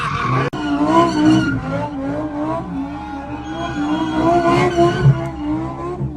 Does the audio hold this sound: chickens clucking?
no